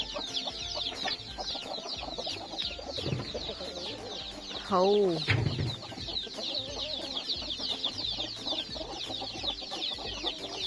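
Farmyard chickens cluck steadily in a dense flock at dawn while ducks are around, with a rooster-like call rising briefly midway and a voice speaking now and then.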